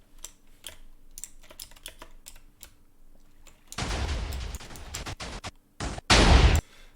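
A TNT cannon fires in a video game, with stacked explosives adding range. Soft scattered key clicks come first, then two loud, harsh explosive bursts, the second sharper and louder.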